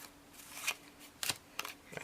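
Playing cards separated and shuffled by hand for a card trick, producing a few quiet, crisp flicks and riffles spaced apart in an otherwise hushed room.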